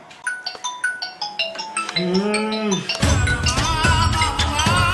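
A mobile phone ringtone plays a bright repeating melody of chiming tones in a steady rhythm, then a swelling tune with a sliding tone swells into a loud, dense musical passage that fills the rest.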